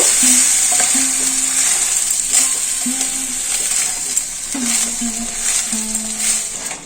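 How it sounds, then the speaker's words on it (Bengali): Washed basmati rice frying in ghee with whole garam masala, a steady close sizzle with intermittent stirring scrapes and light clinks, with no talk over it. "চালটা ঘিয়ের সাথে খুব ভালো করে ভাজা হয়ে গেছে"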